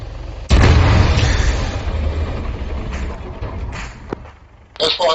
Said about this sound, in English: Copy, explosion before the roof.